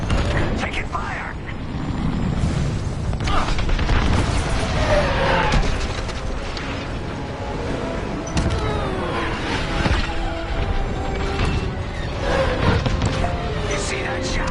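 Starfighter laser blasts and explosions in the space combat game Star Wars Squadrons, a dense roaring engine wash punctuated by sharp zaps and booming hits, with a voice talking over the action.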